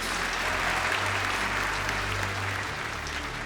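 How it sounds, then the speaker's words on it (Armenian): A hall full of people claps steadily at a film awards ceremony, the Anahit 5th film awards, with an even, sustained wash of applause and a low hum underneath. "կարող եք հիմա նույնպես չխնայել ծափարությունները"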